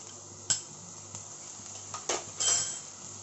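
Finely chopped capsicum goes into onions cooking in a pan over medium flame, heard as a few metallic clinks and scrapes of a spoon against the pan over a faint steady sizzle.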